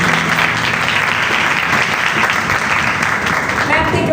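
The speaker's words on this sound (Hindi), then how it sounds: "जोरदार तालियां।" A crowd at a religious gathering bursts into loud, dense applause that holds steady and near throughout, with voices mixed into the clapping.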